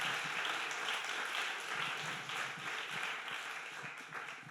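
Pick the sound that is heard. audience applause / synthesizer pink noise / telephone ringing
audience applause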